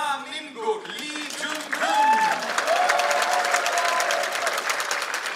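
Arena crowd at the women's 25m pistol final of the 2018 ISSF World Championship in Changwon, Korea, swelling into sustained cheering and applause after a few opening notes, loud and steady throughout.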